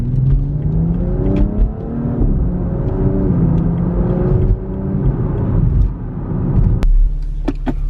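A BMW X3 M Competition SUV's engine revs and pulls hard, its rising, growling tone climbing in repeated surges, loud and close, with a sharp sound near the end as the note settles into a low idle rumble.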